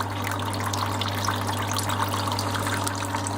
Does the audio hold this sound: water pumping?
yes